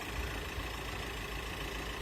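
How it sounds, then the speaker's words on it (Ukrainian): A Volkswagen Crafter van engine idles steadily with a low, continuous rumble and no pauses, nearby and fairly loud, with the side door open. "Зараз мотор працює з боковою дверкою."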